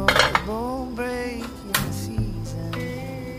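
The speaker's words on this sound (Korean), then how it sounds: "계란물을 잘 풀어주세요." A utensil clinks and scrapes briskly against a bowl while whisking egg mixture with sesame oil, a run of bright metallic ticks and ringing taps, close and alone.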